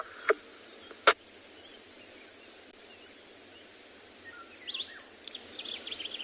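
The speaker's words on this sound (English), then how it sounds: "There's a beautiful bird call that you can hear, that sort of watery call." At sunrise on a safari at Tswalu, a bird gives liquid, bubbling calls in short phrases, moderately distant, over a steady hiss of insects, with a couple of sharp chirps earlier.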